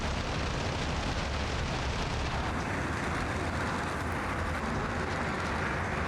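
A light jet fighter in Arma Reforger roars steadily in flight, a dense, continuous wash of engine noise with no talk over it.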